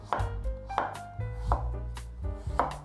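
A knife chops a peeled carrot into thin strips on a cutting board, with steady, evenly spaced thuds about every three-quarters of a second, close and clear with no talking.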